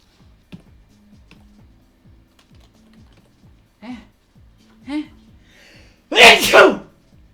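A loud, close sneeze bursts out near the end, preceded by a couple of small sniffs, with steady keyboard typing clicking throughout.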